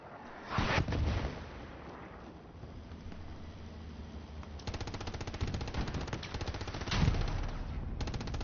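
Gunfire in a competitive video game match, with heavy bursts near the start, then sustained rapid automatic fire through the second half and a loud burst near the end.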